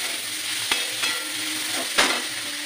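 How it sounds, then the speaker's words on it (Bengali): Veg chowmin frying in a pan on lowered heat, stirred with a utensil: steady close sizzle with two sharp metallic scrape-knocks against the pan, no talking. "এবার নাড়াচাড়া একটু করবো।"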